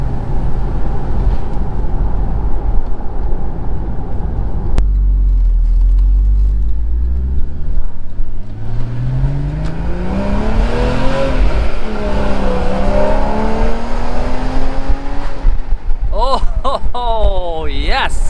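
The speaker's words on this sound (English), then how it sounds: "I think I'll really be able to hear that flat 6 back there." 2013 Porsche Boxster's flat-six engine accelerating, a steady road drone giving way to a rising roar climbing through the revs, then quick gear-change sweeps near the end, loud and constant from inside the car.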